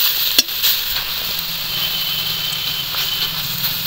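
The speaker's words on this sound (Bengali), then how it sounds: "কড়াই চারিদিকে করে দিলে শাকের মধ্যে যে জলটা আছে একদম পুরো শুকনো হয়ে যাবে" Susni greens, already boiled down, sizzle steadily in a kadai as they are stirred and tossed around to dry off their water, a close, continuous hiss with a sharp scrape near the start.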